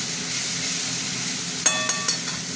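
Sliced onions sizzle in mustard oil in a pan for a home-style chicken curry, a steady close frying hiss with a few short clinks near the end.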